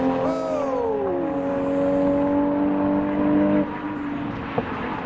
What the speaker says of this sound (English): here's the R33 coming in hot out of the chicane